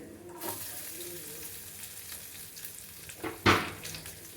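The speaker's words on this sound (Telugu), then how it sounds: "ఆనియన్స్ వేసి మంచిగా ఫ్రై చేయాలి" Onions frying in a pan of hot oil with curry leaves, a steady close sizzle with stirring, and a sharper burst of hissing spatter near the end.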